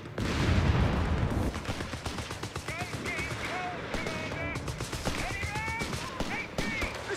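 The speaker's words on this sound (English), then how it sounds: "Taking heavy enemy fire here!" Gunfire and artillery in Company of Heroes 3, a strategy video game battle: a heavy rumbling blast opens, followed by rapid continuous machine-gun rattle with whistling tones, with voices calling out over the fighting.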